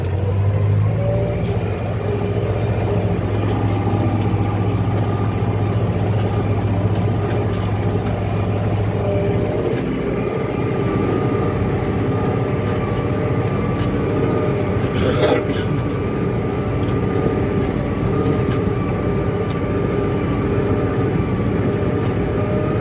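Steady low engine drone rumbles continuously from inside the cab of a Turkish Basak tractor pulling a four-bottom plough, with a brief clatter partway through.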